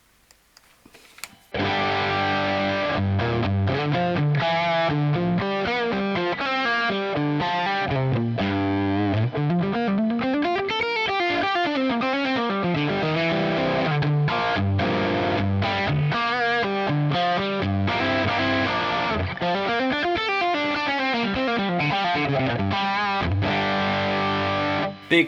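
Electric guitar through a cranked Helix amp model with a noise gate, playing heavily distorted, chunky riffs with sweeping bends, loud and close, cutting off cleanly into near silence at the start, without any voices.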